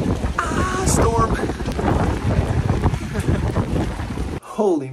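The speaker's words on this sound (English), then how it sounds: "a bit windy today." Strong wind on an outdoor day ahead of a storm, roaring and buffeting the microphone in heavy gusts for nearly the whole stretch, with a voice briefly audible near the end.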